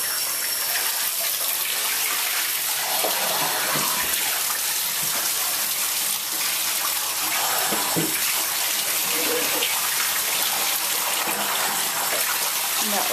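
Running bath water pours steadily as a chocolate Labrador is rinsed in a tub, a constant close hiss and splash with faint voices underneath.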